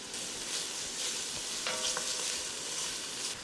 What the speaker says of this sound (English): we're gonna add the onion. Get that cooking